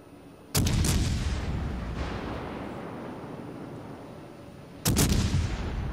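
Cruiser guns firing at an island in a naval warship game: two loud, booming broadside salvos, one near the start and one near the end, each followed by a long rumbling decay.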